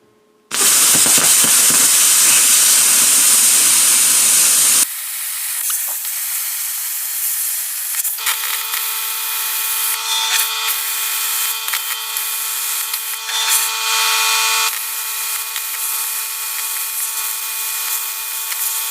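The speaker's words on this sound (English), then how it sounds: "I've got this little plasma cutter, so that's what I'm going to be using." A small plasma cutter slicing through an empty steel can, a loud steady hiss for several seconds, followed by a quieter continuous mechanical drone with a steady tonal hum from a running compressor.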